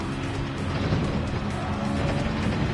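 GT3 race car in Gran Turismo 7 at Monza, a loud, close, continuous engine roar held at high revs with dense buzzing harmonics and no talk.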